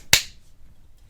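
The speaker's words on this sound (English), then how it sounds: "And then I'm gonna do the clap test." A single sharp hand clap struck once as a recording clap test, loud and close, with a brief decay into near silence.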